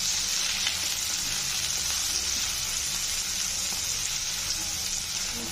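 Dill leaves (shepu) frying and being stirred in a pan, a loud, unbroken sizzle that holds steady and close throughout.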